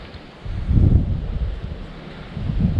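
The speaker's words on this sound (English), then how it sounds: "It's a little windy, I apologize for that." Wind buffeting a microphone in an open hunting area on North Manitou Island, a low rumbling roar that swells and eases in gusts, with no voices.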